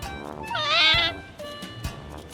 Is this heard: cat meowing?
yes